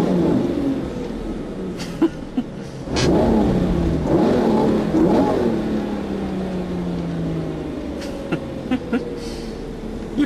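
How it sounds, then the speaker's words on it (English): Lamborghini Murcielago LP640 V12 engine revving through a few sharp throttle blips, rising and falling in pitch with a steady idle rumble between, close and loud. "Just for that noise when you blip the throttle."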